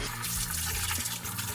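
Water sloshes and splashes steadily as laundry is washed by hand and stomped down with bare feet in a tub with soap, a continuous close wet churning with no talk.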